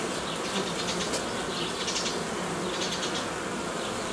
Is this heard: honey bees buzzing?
yes